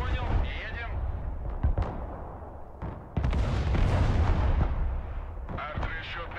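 Artillery fire in the real-time strategy game Broken Arrow: heavy, booming salvos and blasts rumble almost continuously and loudly. Faint voices sit under the barrage.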